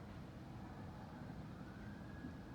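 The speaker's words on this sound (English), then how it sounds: "It's some ambulance or something going on." A faint ambulance siren wails in the distance outside, its rising tone barely standing out above a steady low rumble of traffic noise.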